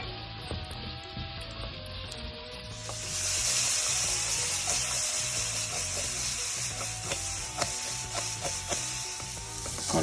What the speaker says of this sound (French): Et on y verse la mirepoix. On mélange et on va laisser cuire